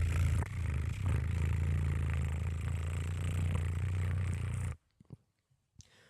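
A man imitates a cat's purr with his voice, a low, steady rumbling drone held for several seconds before it cuts off, followed by a few faint clicks.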